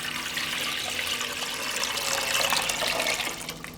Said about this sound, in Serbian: u šerpu sipam litar vode